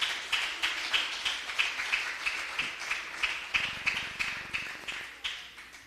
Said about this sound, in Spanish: Den un fuerte aplauso al Señor, aleluya.